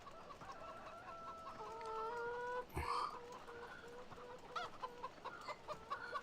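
Chickens cluck and squawk steadily in a farming video game, with layered fowl calls, a brief louder burst midway and a soft background hum, no talk.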